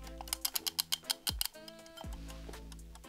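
Tomato-shaped kitchen timer with a spring inside: a quick run of crisp mechanical ticks, close and clear, then a couple of soft sliding sounds and quieter scattered ticks.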